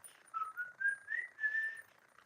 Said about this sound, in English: It's hard to whistle when someone's asked you to whistle